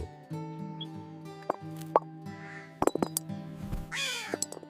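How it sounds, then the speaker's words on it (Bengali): A crow drops small pebbles one after another into a water pitcher, giving a series of sharp plops and clinks, followed by a caw, over quiet background music. "কাকটি একের পর এক পাথর ফেলতে লাগল।"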